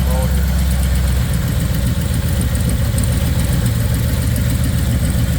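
Big block V8 idling in a 1962 Chevrolet Bel Air fitted with small mufflers mounted backwards, a steady, loud, deep rumble that holds even throughout with no talk over it.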